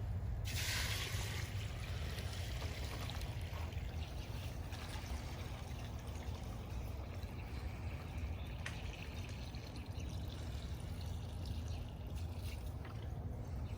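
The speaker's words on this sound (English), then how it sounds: "We'll decant this off" Flushed tap water poured steadily from a bucket during home drinking-water pipe flushing, a continuous close trickling and splashing that holds for the whole stretch with no talk.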